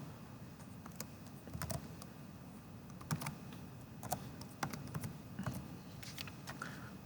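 Quiet, close clicking of a computer keyboard as an IP address is typed, with irregular bursts of keystrokes and short pauses between them over low room hiss.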